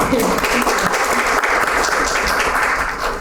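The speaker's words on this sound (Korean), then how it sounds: "큰 박수 부탁드리겠습니다" Sustained audience applause fills a policy forum hall, dense and steady throughout, with a voice faintly speaking underneath.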